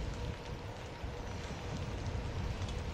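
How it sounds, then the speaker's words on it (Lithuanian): Rain begins falling outdoors on a road trip between Tarragona and Vinaròs in Spain, a faint, steady patter and hiss with low rumbling wind or traffic underneath, no voices. "Nu, prasideda lietus."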